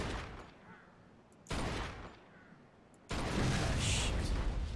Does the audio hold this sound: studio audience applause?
no